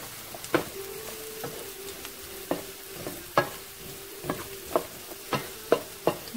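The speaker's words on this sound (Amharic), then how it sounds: "እና ከቀይስሩ ጋር ደግሞ አብረን እንጠብሰዋለን" Beetroot and garlic fry in a pan with a steady low sizzle while a utensil stirs and scrapes in regular, evenly spaced strokes, close and fairly quiet, with no talking.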